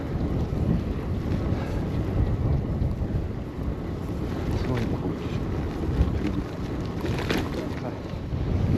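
Steady, heavy headwind buffeting the microphone during a gravel bike ride near a mountain pass summit, a dense low rumble that rises and falls in gusts throughout.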